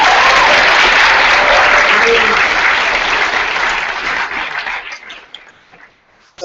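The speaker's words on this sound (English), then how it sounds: "everyone should just give him a round of applause" A live audience breaks into a sustained round of applause after a moving comment, loud and dense for about five seconds before thinning to a few scattered claps, with a brief spoken word at the end.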